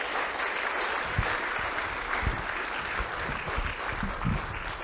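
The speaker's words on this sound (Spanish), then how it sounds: "Un aplauso fuerte para el Señor" A church congregation claps in sustained, steady applause, a moderately loud wash of many hands without speech.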